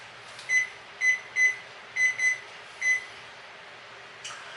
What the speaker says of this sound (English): I'm going to set the microwave timer for 45 minutes.